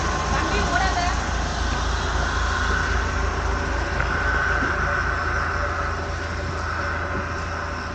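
A bus in the Periyar Tiger Reserve near the Gavi dam rumbles steadily as it stops to let passengers off, with people talking over the engine noise.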